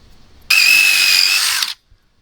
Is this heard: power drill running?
yes